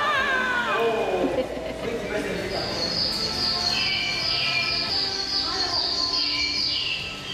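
Birds call and chirp in an aviary section of an Istanbul shopping centre, with bright repeated whistles and tweets over echoing indoor crowd noise and people talking close by.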